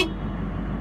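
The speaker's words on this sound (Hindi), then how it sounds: "तो मुझे इसको हॉर्न देना पड़ा कि यू हैव टू गो" A car horn sounds in a suburban Melbourne street, one sustained honk heard from inside the vehicle, loud and close, with no talking.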